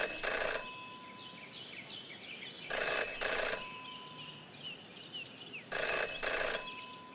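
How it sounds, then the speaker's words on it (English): A telephone in the Jenny LeClue detective game rings in three distinct bursts of a bright electronic bell, with gentle background music between the rings. "Jenny had learned never to ignore a ringing phone"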